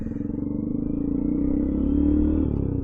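A loud Suzuki Gixxer 150SF engine idles and revs with a deep, throaty burble from a Yoshimura full aftermarket exhaust, running steady and close throughout.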